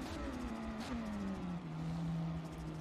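The Zotac race car's engine drones steadily at Sebring in a racing video game, its pitch dipping and then holding at a lower level in a faint, continuous tone.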